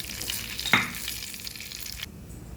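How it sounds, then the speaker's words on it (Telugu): Turmeric and curry leaves go into a sizzling tempering in a pan for a raw onion chutney, a close, steady frying hiss with one brief sharp crackle early on, fading slightly toward the end. "పోపుతో పసుపు వేసుకోవాలి."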